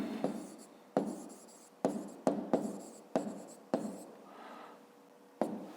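Pen or pencil writing by hand on paper during a 5th-grade math exercise, a series of sharp scratchy strokes with short pauses between them, close and fairly quiet, with no talking.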